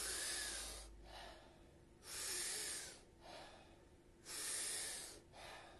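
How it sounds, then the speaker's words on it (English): Rhythmic powerful breathing exercise with big, forceful inhales through the nose and softer exhales, three or four loud close breath cycles repeating steadily, with no talking. "taking about 40 powerful breaths into the body"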